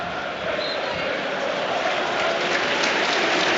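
Stadium crowd at St Mary's applauding Southampton and Manchester United players taking the knee before kickoff of a Premier League match, a broad steady wash of clapping and crowd noise with no gaps.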